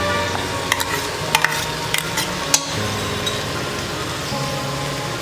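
Ginger garlic paste frying with minced keema for keema kaleji in a home kitchen pan: a steady, close sizzle with a few sharp spoon-scrape clicks as it is stirred, no voices.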